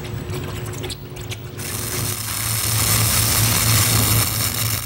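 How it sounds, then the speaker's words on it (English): Computer-controlled machines cutting sheet metal in a factory making farm equipment: clattering mechanical rattles and clicks give way to a loud, sustained, grinding machine roar that swells and holds steady. "Computer-controlled machines cut out sheet metal."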